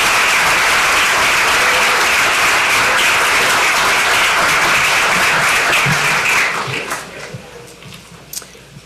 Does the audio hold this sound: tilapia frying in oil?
no